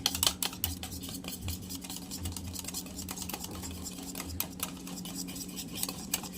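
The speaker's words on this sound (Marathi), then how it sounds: "आता आहे ना हे सगळं हलवून घेऊयात मस्त," Dhokla batter mixed with salt and soda is stirred in a bowl, a quiet, rapid run of spoon scrapes and taps against the container repeating steadily.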